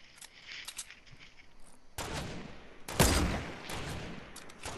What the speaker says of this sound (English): you hear him shooting?